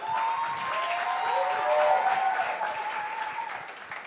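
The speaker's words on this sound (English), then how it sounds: "Please, let's give them a round of applause." Steady applause from a crowd, sustained for several seconds and fading slightly at the end.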